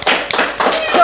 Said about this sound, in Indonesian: tepuk tangan dong untuk Bundo